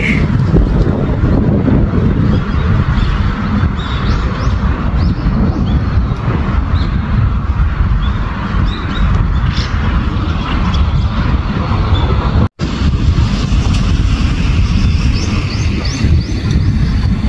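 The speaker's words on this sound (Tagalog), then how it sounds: "Lakas ng hangin, lamig." Strong, cold wind in Japan roars steadily against the microphone, a dense low rumble that barely lets up throughout.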